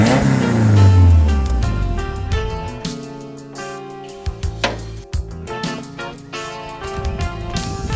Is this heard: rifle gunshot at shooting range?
no